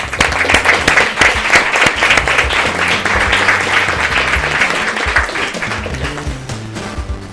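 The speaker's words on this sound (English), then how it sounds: "Let's give them a round of applause" An audience at a school board meeting gives scholarship winners a loud round of applause, with dense clapping that starts strong and slowly tapers while some scattered voices mix in.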